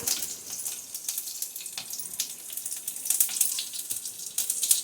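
Mustard seeds sizzle and pop in a little hot oil alongside curry leaves, a light crackling hiss with scattered sharp pops, close and moderately loud.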